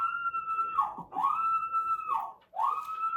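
A high, wailing scream rises and falls in long repeated sweeps, siren-like, loud and close with brief breaks between cries.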